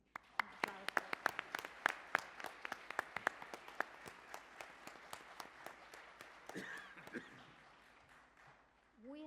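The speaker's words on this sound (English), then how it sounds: "Please, an applause for them." Audience applause at a labor and health activism event, a crowd clapping steadily for several seconds and then fading, with a few louder individual claps standing out.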